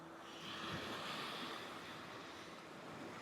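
Sea waves wash onto a beach in a steady, broad rush of surf with wind noise across the microphone, fairly close and continuous, with no one talking.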